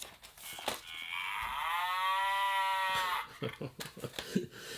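A cow moos in one long, drawn-out call from a board game box, loud and close, set between scattered short clicks and rustles.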